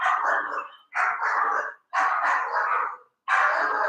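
Dogs barking in an apartment building hallway, four loud bursts of barking separated by short silent gaps, close by and with no talk over them.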